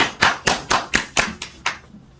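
Seven distinct hand claps ring out at an even, steady pace, sharp and fairly close, from a few people at a philosophy lecture welcoming the speaker rather than a full crowd, fading after about two seconds.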